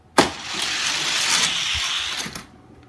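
Die-cast Matchbox toy cars race down a downhill track, a sharp release clack followed by a loud, steady rolling whir lasting about two seconds, ending with a clatter as they finish.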